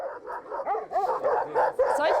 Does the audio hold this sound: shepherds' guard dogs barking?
yes